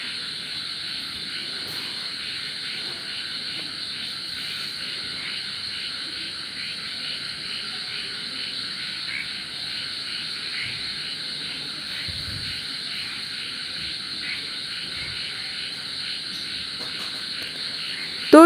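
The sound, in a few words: spicy black cumin pitha frying in hot oil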